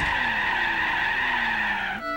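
Cars skid and screech in the Gran Turismo racing game, a sustained tire squeal gliding slightly downward for about two seconds before cutting off abruptly, loud and close with no talking.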